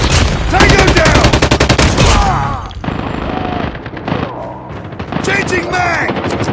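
Rapid automatic gunfire from a sentry gun in Call of Duty Mobile, with loud dense bursts that pause briefly and then resume, mixed with other battle noise and in-game voices.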